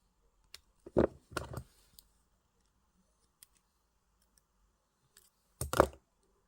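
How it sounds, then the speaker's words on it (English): Two sharp snips of jewelry wire being cut close by while making a wire wrap tree pendant, the pair of cuts coming around the first second with another cut near the end, with quiet pauses between. "You want to cut that wire."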